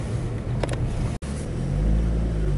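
A BMW driven on the road after an engine carbon clean, its steady low engine and road rumble filling the interior continuously, with a brief dropout partway and a slight rise in drone toward the end.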